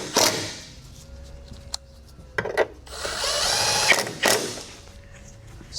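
Cordless power tool driving small fasteners into the underside of a Tesla Model 3 battery pack: several short, close whirring bursts separated by pauses, with brief clicks and rattles between them.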